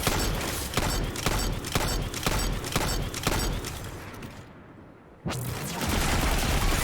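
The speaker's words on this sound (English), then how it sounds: "I am going to shoot him with Xenophase so he can put up his shield" Rapid loud bursts from the Xenophase heavy weapon in the video game Destiny, a rhythmic series of roughly eight heavy shots, a short lull, then a sustained blast.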